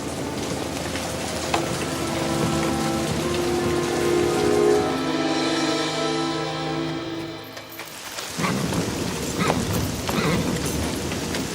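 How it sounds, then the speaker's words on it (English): Heavy rain pours down steadily and loud for the whole stretch, a dense continuous wash of drops on surfaces, swelling midway and then dropping briefly before resuming; no clear thunderclap stands out. "The rain's getting heavier."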